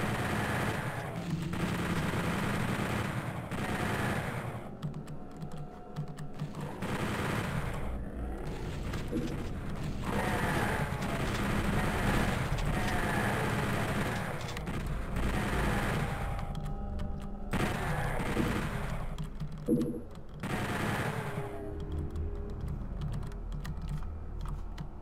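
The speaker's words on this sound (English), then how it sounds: "so I think I'll use the chain gun" Rapid automatic chain gun fire in Doom 64, sustained bursts running for about twenty-five seconds, loud and dense with brief gaps between volleys and game sound mixed in.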